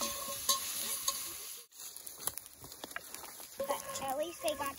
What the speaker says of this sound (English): After the bacon cooks and gets crispy, we'll take it out